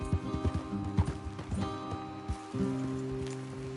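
Video game horse hooves in Red Dead Redemption 2 clip-clop in an uneven trot, fairly close, over a steady musical background with a soft rain-like hiss.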